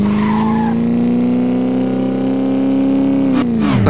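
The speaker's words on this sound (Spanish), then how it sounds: "Acá viene un autotaxi." A taxi car in a motorcycle racing video game sweeps past with a loud, sustained engine drone and tyre squeal, the pitch holding steady then dropping sharply as it goes by near the end.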